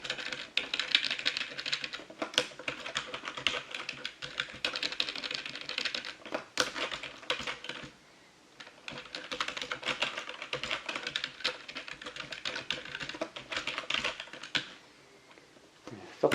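Steady, fast typing on a computer keyboard with a slightly faulty Shift key, close and fairly quiet, keystrokes clattering continuously with a brief pause near the middle and no talking.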